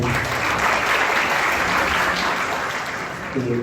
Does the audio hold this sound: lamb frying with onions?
no